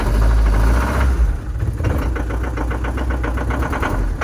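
The cold diesel engine of a London taxi on a snowy day catches and settles into a loud, clattering idle, with rapid rhythmic knocking that stays close and steady.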